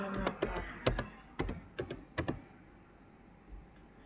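A run of quick keystrokes on a computer keyboard, clustered in short bursts of clicks during the first half, then a pause and one last soft tap, close and fairly quiet with no voice.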